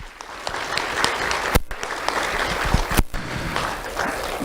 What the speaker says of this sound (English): Round of applause for Selma, please.